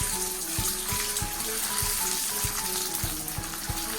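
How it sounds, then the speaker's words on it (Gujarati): Boiled potato pieces frying in hot oil for a curd potato curry, a steady broadband sizzle with a run of regular soft knocks and faint tones beneath, close and continuous with no talk. "હવે આપણે બટેટાના ટુકડા તળવા માટે એડ કરીએ."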